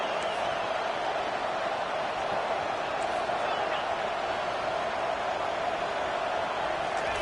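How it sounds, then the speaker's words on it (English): Steady roar of a football stadium crowd on a third-and-four defensive down, a dense continuous wash of noise holding level throughout without breaks. "the noise from this crowd on 3rd and 4"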